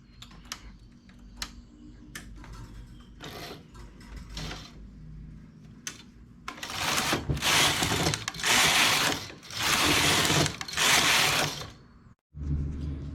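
A knitting machine works a two-colour brick stitch, its carriage giving mechanical clicks and ticks at first, then several long loud rattling passes.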